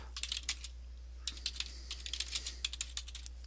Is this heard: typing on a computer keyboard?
yes